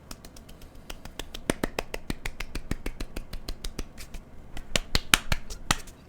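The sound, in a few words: imitated rapid little claps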